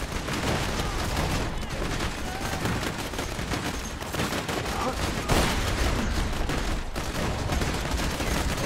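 Sustained minigun fire from Borderlands 2 gameplay, a loud, dense and continuous rattling stream that runs for the whole stretch with no breaks, plus one sharper burst partway through.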